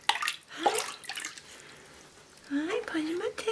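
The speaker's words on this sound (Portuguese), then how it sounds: "Bate na água, faz bagunça." A young girl splashing and slapping the water in a bathtub, a few wet splashes up close with a child's high vocal sounds over them.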